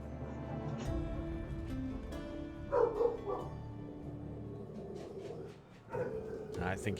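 A dog next door gives a short burst of barks, somewhat distant and fairly faint, mixed in with background game music and sounds.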